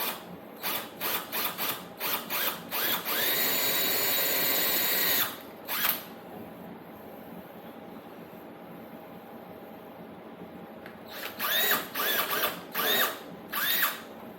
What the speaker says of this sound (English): what I'm going to be doing next is drilling those 2 holes